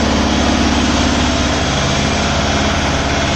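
A Kubota MU 5502 turbo tractor engine runs close and loud, a dense steady drone with a low rhythmic throb that holds unchanged throughout.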